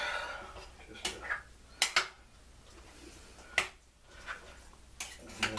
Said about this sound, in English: And give that a mix.